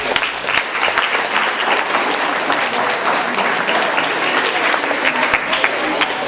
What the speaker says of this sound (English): So just clap for support really quick.